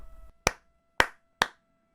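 Three lone, sharp hand claps ring out close and dry, spaced about half a second apart in a slow, deliberate rhythm after a brief stretch of faint low noise.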